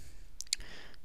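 A short pair of sharp computer mouse clicks while installing software on Debian, close and crisp over a faint background hum, with no talking.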